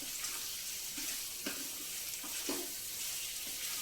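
Mutton fries in a pan for a Telugu-style drumstick curry, with a steady, loud sizzle and hiss and a few soft stirring scrapes over it.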